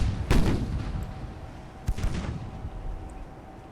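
Warship guns firing in Ultimate Admiral: Dreadnoughts, a naval battle game: two heavy booming shots, one near the start and another about a second and a half later, each with a rumbling tail over a steady ambient hum.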